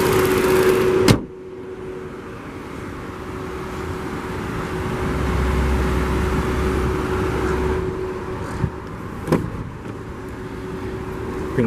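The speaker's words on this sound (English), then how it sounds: "Bring the driver's side automatic window back up." On a 2015 Buick Encore, the driver's side power window runs with a steady motor hum for most of the stretch, bracketed by sharp clunks at the start and end and a few faint knocks, and no talk.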